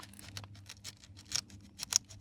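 A knife cuts through a cactus totem stem in a nursery, making a quick series of crisp, crunchy snips and scrapes, close and fairly quiet, growing sharper toward the end.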